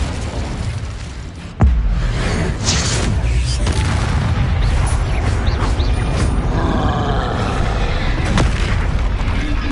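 Spell explosions from Incendio and Confringo in the Hogwarts Legacy video game erupt as a sudden loud boom, followed by a sustained roaring, crackling blast texture that stays dense and forceful.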